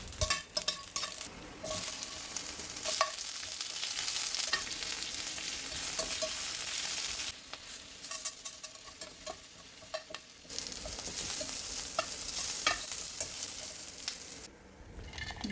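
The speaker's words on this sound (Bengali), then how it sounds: "একটি কড়াইতে সর্ষে তেল দিয়ে ওর মধ্যে চিনি বাদামগুলো ভেজে নেব" Peanuts frying in mustard oil in a wok, a long steady crackling sizzle with repeated scraping stirs, dipping briefly quieter at times, close with no voices.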